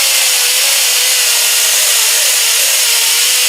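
Loud, continuous abrasive rubbing of a soft scouring pad against a Chevelle front suspension part, a steady harsh scrubbing hiss with slight wavering, close to the microphone and without speech.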